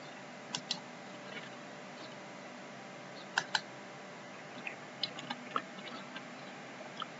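Scattered light keystrokes on a computer keyboard while entering a spreadsheet function, faint and irregular over a steady background hiss, with no talk.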